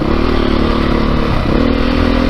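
A 2022 Beta 430 RR-S dirt bike engine drones loud and close as it rides over rocky ground, with a brief dip and a steady rev beneath clattering.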